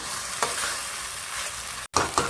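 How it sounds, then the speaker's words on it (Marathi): Capsicum stir-fried in butter in a pan for pav bhaji, giving a steady close sizzle broken by a few scraping stirs of the spatula and one brief gap before the frying resumes. "शिमला मिरची चांगली परतली बघा।"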